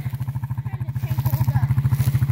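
A four-wheeler ATV engine pulls a homemade hay unroller with a steady, throbbing low putter, close and fairly loud, its regular pulses holding throughout and growing slightly stronger toward the end.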